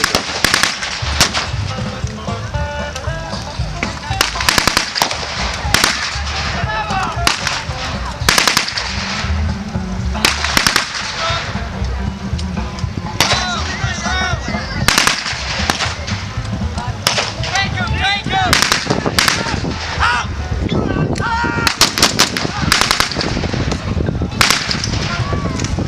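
Rapid cracking blank gunfire from a battle re-enactment, loud and nearly continuous with bursts like a machine gun and sharp single reports, close by with faint voices under the shooting.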